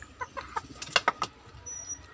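A chicken clucks while pecking at papaya peel: a quick run of short, soft clucks close by, fairly faint and with no talking.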